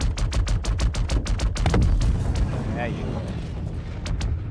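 Rapid gunfire bursts in the Star Citizen video game, a dozen sharp loud shots in quick rhythm, followed by a heavier blast as a buggy is destroyed, with a voice talking over it.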